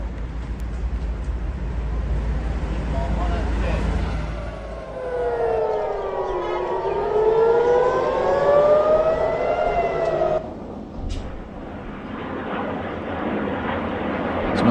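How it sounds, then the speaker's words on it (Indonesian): A civil defense air raid siren in Tel Aviv wails in rising and falling sweeps over a steady roar of wind and engine noise, then cuts off abruptly. "sirene di kota Tel Aviv kembali berbunyi"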